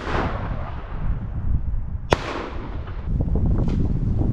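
A single sharp shotgun blast rings out mid-clip during a wood pigeon hunt in Calabria, loud and abrupt over gusty wind rumble, followed by a brief fading echo.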